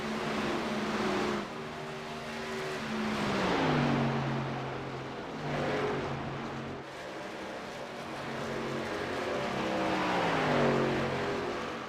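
Race cars lapping Texas Motor Speedway in a racing sim game, a steady loud engine drone with pitch rising and falling as the cars shift and accelerate, continuous throughout with no talking.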